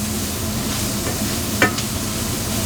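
Pumpkin frying in a pan, a continuous close sizzle with a short scrape of a spoon stirring partway through and no voices.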